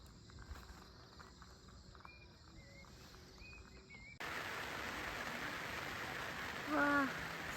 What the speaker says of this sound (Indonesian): 5:30 hujan lagi.